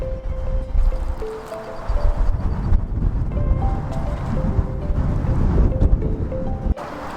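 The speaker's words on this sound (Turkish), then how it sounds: "gerçekten rüzgar çok fazla" Strong wind buffets the microphone throughout on Trukhaniv Island in Kyiv, a constant loud rumbling roar with gusty swells and no voices.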